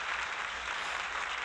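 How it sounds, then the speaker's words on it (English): A cued applause sound effect plays on a talk show, a short burst of steady, dense clapping heard fairly faintly, with no voices. "I had to cue the applause"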